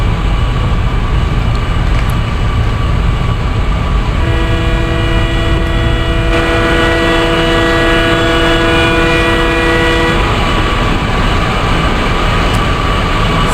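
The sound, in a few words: Nagercoil Express train running at speed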